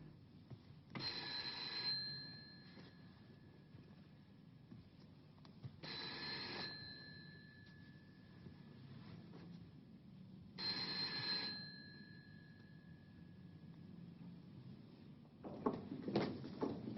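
An old-style telephone bell rings in a quiet indoor room, three separate bursts spaced a few seconds apart, followed by a knock or door sound at the end.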